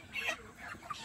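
A chicken clucking in short, soft calls, a few quick rising notes heard at a moderate distance with no talking.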